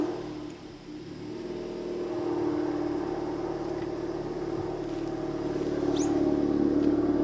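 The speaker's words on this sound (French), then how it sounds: "Il y a un échappement pas normal là. Ah, ils ont mis le Remus!" Honda Civic Type R Limited Edition fitted with a Remus exhaust accelerating, a steady droning engine note that swells and holds loud from start to finish, heard close with no talking.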